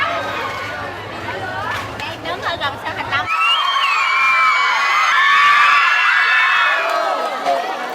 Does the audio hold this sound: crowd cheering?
yes